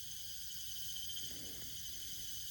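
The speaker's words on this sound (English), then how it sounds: "Excuse the extremely loud cicadas" Loud cicadas in an old growth forest fill the air with a continuous, shrill, high-pitched drone that never lets up, over a faint low rumble and no talking.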